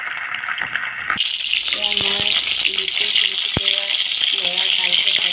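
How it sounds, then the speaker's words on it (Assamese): Pieces of fish drop into hot oil in a wok and fry with a loud, steady sizzle that begins abruptly and then carries on, with a few light clinks and taps of utensils along the way. "এতিয়া তেল গৰম হোৱাত এয়া মই মাছ কেইপিচ দি"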